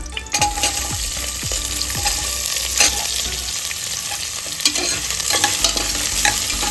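Onions fry in hot oil in a pan while a spoon stirs them, giving a steady close sizzle broken by scraping strokes and occasional clinks as the rice dish base cooks, with no voices.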